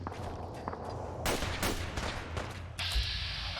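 Turret gunfire in Fallout 4, a series of quiet, fairly distant bursts and single cracks spread across a low steady background hum.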